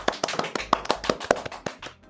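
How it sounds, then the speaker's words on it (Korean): Audience applause at a Korean Azure cloud webinar session as a presenter is introduced: a short burst of crisp, separate hand claps in a loose irregular rhythm from a small group, close and moderately loud, with no talking. "박수 부탁드립니다."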